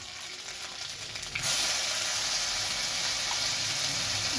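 Ginger and onion paste frying in a pan for a Bengali rohu fish curry, a steady sizzle that jumps louder about halfway through as the wet paste hits the hot oil, then holds a bright, constant crackle with no talk.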